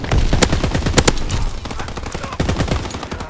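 Rapid gunfire in the World War II shooter Call of Duty: WWII on Xbox One, with dense overlapping shots and bursts cracking out loudly and continuously, as if from several weapons at once.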